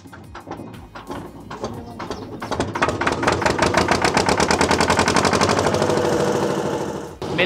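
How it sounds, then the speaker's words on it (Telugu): A concrete mixer's diesel engine starts at a construction site during slab pouring for a new studio. It coughs in a few irregular knocks, then settles into a loud, rapid, steady chugging that runs close and unbroken with no talk. "మిల్లర్ అయితే స్టార్ట్ అయిపోయింది."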